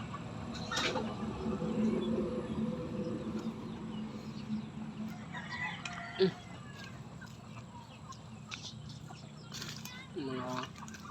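Chickens clucking and bawking nearby over a low background hum, with scattered bursts of calls and occasional sharp knocks.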